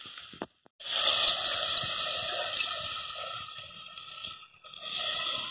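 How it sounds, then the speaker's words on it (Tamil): Water pours steadily into a cooking pot of bean and eggplant kuzhambu with a hollow, rushing splash, starting after a brief knock and continuing for several seconds. "இப்போ தேவையான அளவு தண்ணி விட்டுக்கலாம்."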